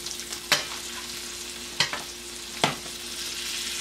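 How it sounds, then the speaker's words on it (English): Salmon cooking in hot butter in a pan, a continuous close sizzle broken by three sharp spoon or spatula clinks, as though butter is being spooned over the fish. "I'm actually cooking the top with the hot butter"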